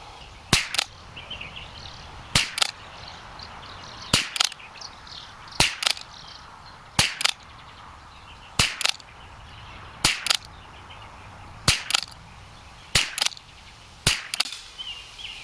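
Rifle shots from a range session firing American-made ammunition, likely rimfire target loads through a Winchester: ten sharp, loud cracks, some in quick pairs, spaced evenly with short pauses between them.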